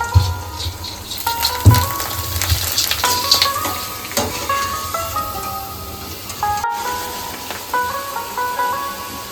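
Colored bhungla frying in hot oil, a steady crackling sizzle with bubbling pops and occasional stirring, close and fairly loud, with no talking.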